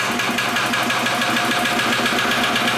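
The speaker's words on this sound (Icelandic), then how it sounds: "svona fer vélinn í gang og rafmagni fer." A lighthouse generator engine on Grímsey, Iceland, runs loud and close with a fast, even chugging rhythm and a constant mechanical drone throughout.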